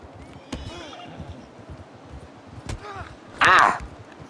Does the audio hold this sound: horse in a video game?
yes